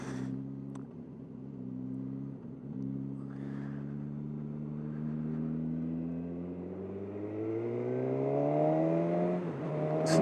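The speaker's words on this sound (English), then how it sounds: "Makes a lovely burbly sound, the exhaust," A 2020 Suzuki Katana motorcycle's exhaust drones with a strong, steady engine tone that slowly climbs in pitch, recorded close while riding, with no talk over it.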